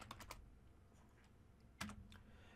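Fingers type on a computer keyboard, quiet clusters of quick key clicks at the start and a few more taps later, alone without talking.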